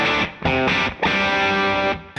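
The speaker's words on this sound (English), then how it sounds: "so a Les Paul now into the clean channel sounds like this on the bridge setting." A Les Paul guitar on its bridge pickup plays through the clean channel of a Mesa Boogie Rectifier amp. Three or four strummed chords ring with a slight edge of grit, the last held for about a second before cutting off.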